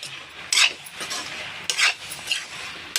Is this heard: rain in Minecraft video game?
no